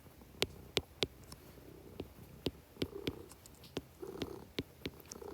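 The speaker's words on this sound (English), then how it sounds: "There's Eddie purring in the background." A soft, steady purr runs low throughout, punctuated by several sharp clicks and taps scattered across the clip.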